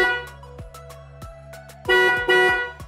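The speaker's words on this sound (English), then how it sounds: "the vehicle's executed the double horn honk to say that it's completed the TPMS relearn" A car sounds a double horn honk to confirm that its tire pressure sensor relearn has finished: loud, close, harmonic toots with a short gap between them, following a few soft clicks.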